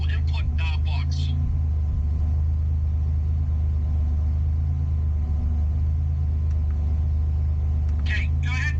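A Buick Grand National engine idles with a steady, deep low rumble throughout, while people talk briefly over it at the start and end.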